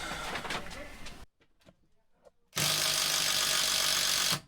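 A power tool whirs loudly while driving a bolt during removal of bench seating from a school bus. One burst is followed by a short quiet pause, then a second, longer steady run that stops abruptly.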